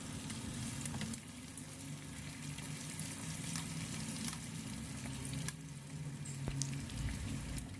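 Grouper fish deep frying in oil in a home kitchen pan, a soft continuous sizzle and crackle with occasional small pops, faint and steady throughout with no talking.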